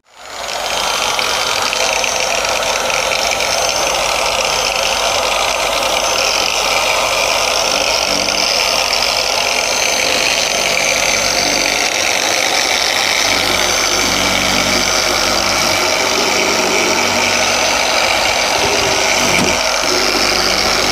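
A polishing machine buffs a yellowed car headlight smooth, a continuous loud whirring hum with a steady mechanical rattle held at an even level throughout, close up and alone.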